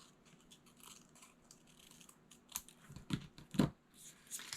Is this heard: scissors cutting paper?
yes